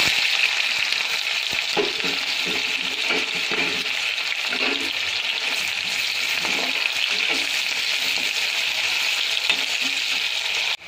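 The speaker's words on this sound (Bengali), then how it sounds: "তেল গরম হয়ে গিয়েছে, পেঁয়াজটা লাল করে ভেজে নেব" Onions fry in hot oil for Changezi chicken, a loud continuous sizzle and crackle up close with faint utensil knocks underneath, no voices.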